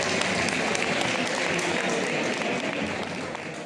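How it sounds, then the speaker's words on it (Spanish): Loud, sustained applause from the crowd at a village wine and potato omelette contest in Jarandilla honours a prize winner, a thick wash of clapping that eases off slightly at the end. "¡Un aplauso fuerte!"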